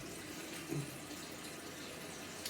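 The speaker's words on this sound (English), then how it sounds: "So I'm just filling the pot up with some water to put on the cooker to get it boiling." Tap water runs steadily into a cooking pot for a soup, a soft continuous wash of falling water heard alone at low level, with a brief louder splash partway through.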